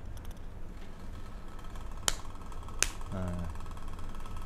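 Two sharp, isolated hand claps about a second apart, demonstrating the clap used during prayer in an Islamic fiqh lesson. They stand out against a quiet room hum, and a faint voice follows.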